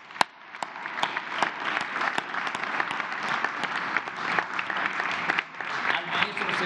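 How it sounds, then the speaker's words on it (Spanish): Applause for a teacher at a presidential press conference: a sustained crowd of clapping hands, with some sharp, close individual claps standing out against the steady wash. It stays fairly even and continuous throughout. "Al maestro Cepeda también su aplauso."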